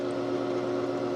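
An above-ground pool filter pump runs with a steady, continuous mechanical hum and whir, close and even throughout with no voices.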